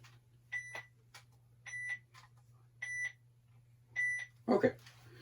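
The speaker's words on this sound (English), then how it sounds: "Oh, there's a beep." Four short electronic beeps from a 2005 i-Dog robot dog toy in test mode sound at an even pace over a steady low hum, followed by a brief clatter at the end.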